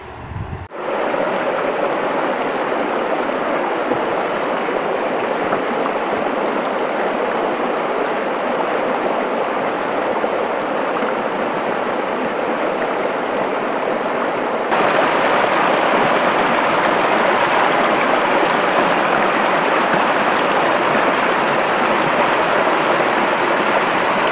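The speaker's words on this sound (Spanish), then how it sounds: "para que disfruten, para que se relajen un poquito con el sonido del agua" Water rushes continuously at the Caboraca dam near Canatlán, Durango, a loud, unbroken roar that swells slightly about halfway through, with no voices.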